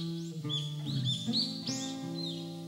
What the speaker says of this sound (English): The chirping of birds could be heard through the window.